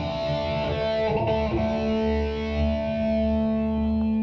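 Electric guitar sounding through distortion, chorus and echo effects during a pre-show sound check at a guitar recital, with sustained ringing chords and notes holding steadily at close range without any voices.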